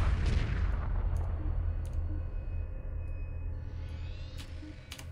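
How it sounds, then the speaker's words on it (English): Gunships and a destroyer firing on a large group of assault craft in Homeworld Remastered: a steady low rumble of weapons fire with scattered sharp clicks and faint pulsing tones, distant and continuous rather than distinct shots. "Gunships and that destroyer engaging that massive blob of assault craft."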